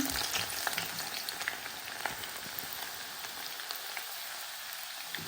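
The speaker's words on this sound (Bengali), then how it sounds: "তেলটা এখন গরম হয়ে গেছে দিয়ে দিলাম রসুন" Garlic sizzles in hot oil for a chili oil dip, a dense, close, rain-like crackle that is loud at first and gradually settles, with a few light clicks and no talking.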